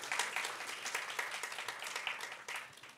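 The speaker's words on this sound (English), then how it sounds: "Can I please have a huge round of applause for her?" Steady applause from an audience, dense clapping throughout at a moderate level with no voices.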